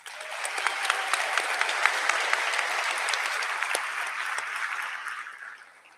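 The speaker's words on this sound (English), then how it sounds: "Let me give her an applause." Sustained audience applause at a nursing school pinning ceremony honoring a retired professor, dense steady clapping from a large crowd that swells and holds before fading out near the end.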